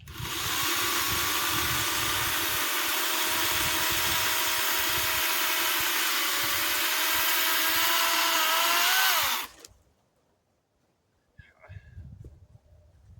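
A cheap ReliaRoads 40V battery chainsaw cuts firewood with a loud, steady whining buzz for about nine seconds. It then cuts off abruptly, leaving near silence and some faint handling noise.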